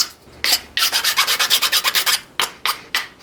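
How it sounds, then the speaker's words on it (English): Flat file rasping the cut edge of a steel motorcycle fork tube, a loud close run of quick rhythmic strokes, a pause, then a few slower single strokes. "on the outside just use a flat file"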